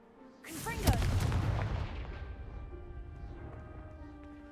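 A Confringo fire spell in Hogwarts Legacy blasts apart a pile blocking a stairwell, a sudden loud explosive boom with crackling debris that rumbles and fades over several seconds.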